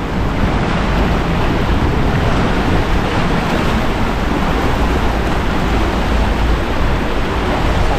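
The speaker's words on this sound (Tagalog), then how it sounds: "Uy, lakas ang agos." A strong current rushes past: dense, steady roaring water noise, loud and continuous, with some wind buffeting and no voices.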